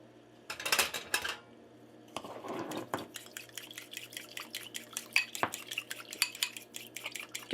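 Ground beef with soy sauce being stirred in a pan, with a long run of close metal-on-pan scrapes and taps plus a few brief louder bursts of sizzling.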